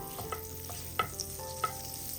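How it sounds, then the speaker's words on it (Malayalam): Butter melts in a pan over a low flame with a soft, even sizzle, marked by three or four light taps of a spatula against the pan. "ഫ്ലെയിം കുറച്ച് വെച്ചിട്ട് ഇതൊന്ന് മെൽറ്റാക്കി എടുക്കുക."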